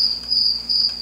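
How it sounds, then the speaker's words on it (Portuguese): Crickets chirp in a steady, high, continuous trill, close and clear, with a slightly pulsing rhythm and no voices. "Ao som de grilo"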